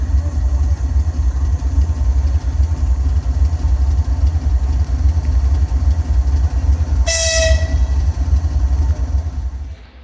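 A train waits in a station before leaving for Bucharest, with a loud, steady low engine rumble throughout and a brief sharp horn blast near the end.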